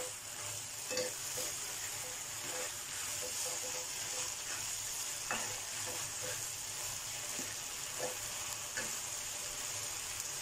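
Bamboo shoots stir-fried without oil, with basil leaves added, in a steady sizzling hiss broken by repeated scraping stirs of a spatula in the pan.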